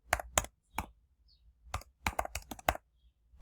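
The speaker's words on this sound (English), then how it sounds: "I'm going to type in the word resilience" Computer keyboard keys being typed in short irregular bursts of crisp, close clicks with brief pauses between them, quiet and on their own without any voice.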